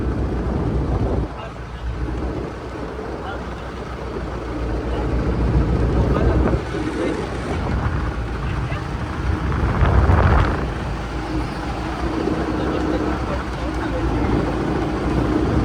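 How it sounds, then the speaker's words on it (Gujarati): Strong wind buffets a fishing boat at sea off Vanakbara harbour, a constant loud rumble with a low engine drone, while people talk over it throughout. "પવન લાગ્યો હવે ખબર પડી."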